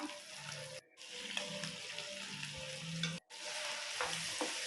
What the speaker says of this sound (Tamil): நல்லா பரட்டி விட்டுட்டு நம்ம அரைச்ச மசாலா பொருளை இதில் சேர்த்துக்கலாம்